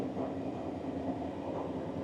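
Steady low rumble of the EuroCity 106 train travelling from Vienna to Krakow, a continuous even interior drone heard from inside a panoramic first-class carriage, with no voices.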